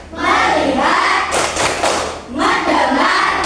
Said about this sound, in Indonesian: kita akan melakukan tepuk fokus ya